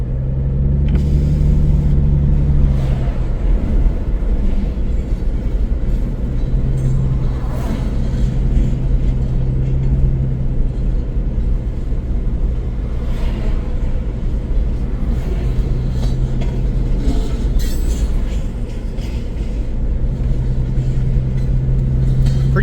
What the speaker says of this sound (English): Kind of like the sounds of the train.